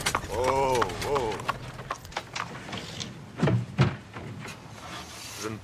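Horse hooves clip-clop in an irregular series of knocks under and between people talking.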